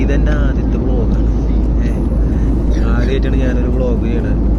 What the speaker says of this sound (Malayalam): പതുക്കെ ഫ്ലൈറ്റ് ടേക്ക് ഓഫ് ചെയ്യാൻ പോവാണ്.